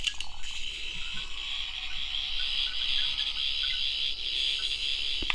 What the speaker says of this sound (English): So it's just kind of a more kind of like stuttery or kind of running out of power kind of sound.